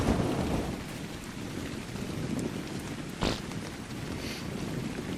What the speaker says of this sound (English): Oh, rain. Yep, there we go. That'll do it.